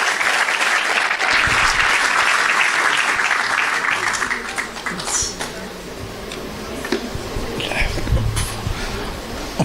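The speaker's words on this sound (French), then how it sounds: "J'ai envie qu'on fasse un applaudissement pour ma sœur de cœur" Audience applauding at a women's masterclass event, a dense sustained clapping that stays loud throughout, with some crowd murmur and scattered voices mixed in.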